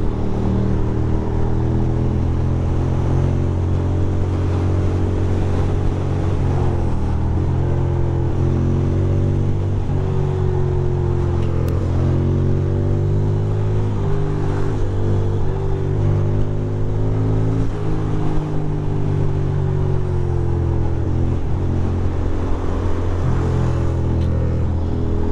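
Ducati motorcycle engine droning steadily while riding in traffic, with continuous loud engine harmonics that shift gently as the bike slows and picks up speed, close to the microphone, with no talk throughout.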